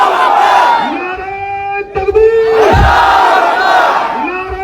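A rally crowd at a political speech in Nanded roars a loud, sustained chant in answer to the Naara-e-Takbeer call, with a brief dip in the middle before a second massed shout swells up.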